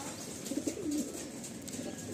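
A Madrasi pigeon in a Kolkata loft gives a soft, low coo, close and faint, a short rolling call of a couple of notes over quiet background.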